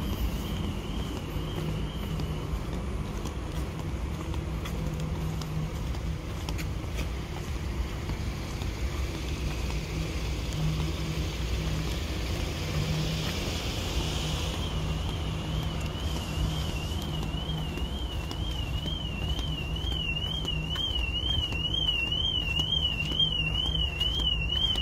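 Ford car alarm at a large Texas dealership wailing in a steady, continuous warble, moderately distant and rising in prominence toward the end, with wind and outdoor rumble underneath and no talk.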